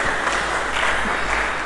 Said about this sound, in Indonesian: Mari kita berikan tepuk tangan yang meriah bagi Yesus Kristus Tuhan.